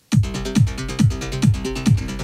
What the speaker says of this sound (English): the mid bass line, would sound like this. It's a more aggressive sound.